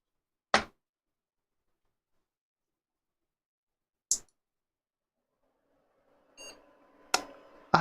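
A desktop computer gives short POST beeps right after its graphics card is reseated, with isolated sharp clicks between them and a brief burst of electronic whine near the end, all in otherwise quiet surroundings.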